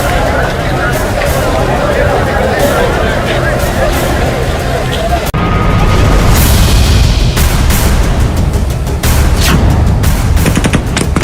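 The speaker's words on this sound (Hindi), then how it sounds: "बैकग्राउंड में गोलियों की आवाज सुनाई दे रही है।" Sharp gunshots crack repeatedly over a loud, chaotic crowd din with shouting outside Kabul airport after a bomb blast, some shots close and loud, others scattered and distant.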